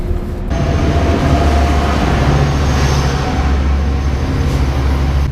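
A Metrolink train at Glendale Station gives off a steady, loud rumble with sustained low hum and tonal drone, unbroken from start to finish and heard alone.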